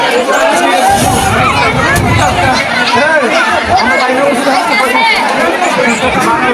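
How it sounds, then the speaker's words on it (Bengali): Dense crowd chatter at a village fair at night, a loud, continuous babble of many voices close around, with individual voices rising and falling through the hubbub. "এখানে এখানে ভিড় মানে রাত্রেবেলা প্রচুর ভিড় আছে"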